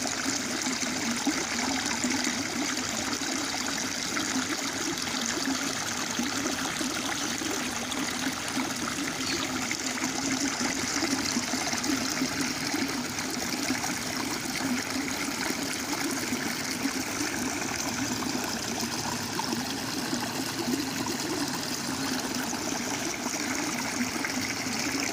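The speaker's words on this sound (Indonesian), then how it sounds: "Di sini ada salah satu contohnya, yaitu ekosistem sungai." River water flows steadily in a natural stream ecosystem, a continuous close rushing and trickling that holds even and unbroken throughout with no voices.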